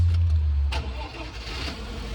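A Changan car engine runs steadily after repair with a deep low rumble, close by, alongside a faint hiss.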